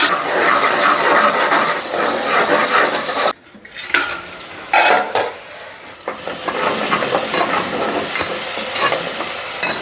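Fresh onions and ginger frying in a pan for a village-style country chicken curry: loud, continuous sizzling with scraping stirs and clinks of a utensil against the pan, and a short quieter pause partway through.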